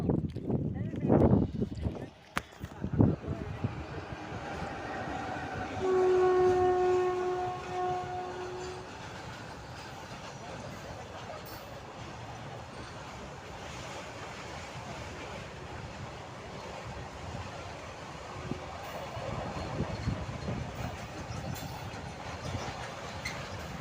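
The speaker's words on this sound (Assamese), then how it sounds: "এতিয়া ট্ৰেইন আহি আছে, আপোনালোকক ট্ৰেইন দেখাই আছে।" A train approaches with a sustained horn blast, followed by a long, steady rumble of rolling wagons that keeps going to the end, with a few sharp knocks near the start.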